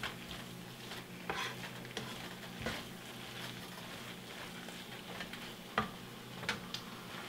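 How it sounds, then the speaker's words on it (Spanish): Arroz con pollo ingredients stirred in a pan, with soft scraping and light sizzling ticks scattered unevenly over a steady low background hum, close and fairly quiet, no voices. "Vamos a mezclarlo todo muy bien."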